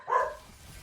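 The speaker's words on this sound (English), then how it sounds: "You might be hearing my dog, but there is close to nothing I can do with it since he's downstairs" A single short dog bark from downstairs, muffled and moderately faint, alone with quiet background.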